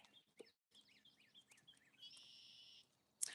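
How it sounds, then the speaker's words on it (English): A blackbird along a Tennessee nature trail gives faint, distant chirping calls, followed by a longer harsh, buzzy screech and a sharp final note. "Oh, it's a blackbird. Do you hear that screeching sound?"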